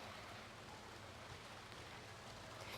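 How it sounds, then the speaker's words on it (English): Steady rain falling in the Costa Rican jungle, a soft, even hiss of drops that stays faint and distant throughout with no breaks. "You can probably hear the rain."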